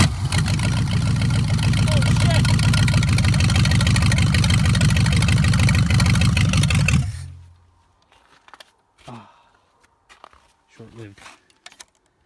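A V8 trike engine fires up and runs loud and rough with a fast steady pulse for about seven seconds, then dies away, leaving quiet and a few short bursts of talk.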